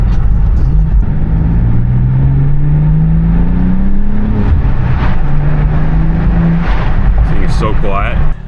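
A BMW M2 G87 fitted with an Autowerke exhaust, its engine close and loud, rising steadily in pitch through a long rev, dropping, then revving again before cutting off.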